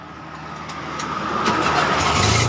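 A small three-wheeler engine with automatic transmission cranks and catches, settling into a steady, buzzing idle that grows slightly louder, heard up close with no voices.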